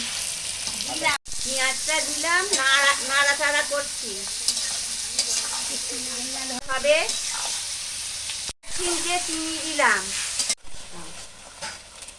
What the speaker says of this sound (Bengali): পেঁয়াজটা লাল লাল হয়ে গেছে